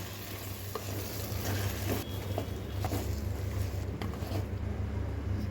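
A pan sizzles steadily while a utensil scrapes and stirs through frying eggplant pieces in tempering, close by, with no talking.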